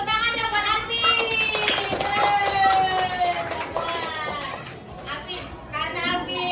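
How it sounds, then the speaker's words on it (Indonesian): Schoolchildren in a classroom clap for a classmate named Alvin, a steady patter of small hands running under loud, high-pitched excited voices and chatter throughout. "tepuk tangan dong buat Alvin"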